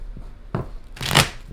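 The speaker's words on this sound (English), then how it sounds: "let's do a couple shuffles" A deck of tarot cards being shuffled by hand, two riffling bursts with the second longer and louder, close up with no talking.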